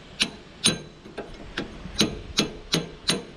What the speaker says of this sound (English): we'll tap this rod out.